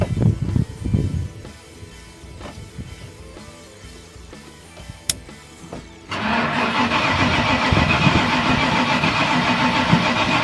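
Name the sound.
1996 Ford F250 engine cranking, trying to start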